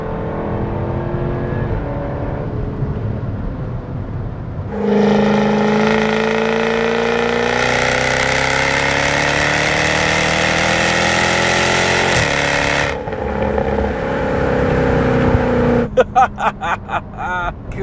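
A Jaguar F-Type engine revs up sharply and holds a loud, rising roar for several seconds, then drops back with burbling and crackles, heard close from inside the car.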